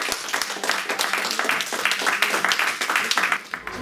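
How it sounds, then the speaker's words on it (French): Audience applause for a lecturer at a talk on General Antoine Béthouart, many hands clapping steadily and fairly close, then fading out near the end. "on va applaudir"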